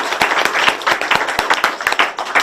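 Church congregation clapping together in a worship service, a steady run of sharp, dense claps that swell and dip over a couple of seconds with no voices.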